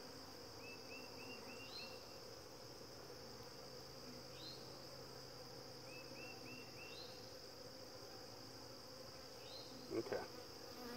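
Honey bee queens being caged from mating nucs buzz in short repeated bursts, steady and fairly faint against a constant insect-like background hum, with a brief knock near the end.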